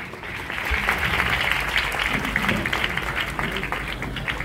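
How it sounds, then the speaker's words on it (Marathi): Audience applause for a guest being honoured at a community event, a loud crowd of clapping that swells in quickly and holds steady, with faint voices beneath. "एकदा जोरदार टाळ्या समीर वानखेडे सरांसाठी."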